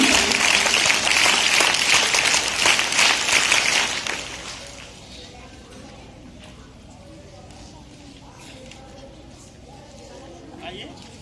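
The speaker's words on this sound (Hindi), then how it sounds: "बच्चों के लिए भी जोरदार तालियां लगाएंगे सभी" Loud applause from an audience at a school award ceremony as children come forward, a dense wash of clapping for about four seconds that then drops away to a quiet murmuring room.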